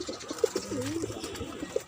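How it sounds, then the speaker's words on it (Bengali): Pigeons on a rooftop garden coo softly in short repeated calls, close by, with a faint outdoor background and no talking. "এদিকে আছে কবুতর"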